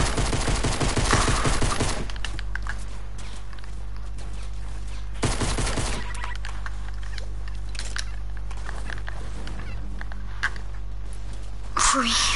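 Rapid bursts of video game gunfire crackle loudly and up close in a solo match, with a dense volley at the start, scattered shots through the middle and another burst near the end, and a player talking over it.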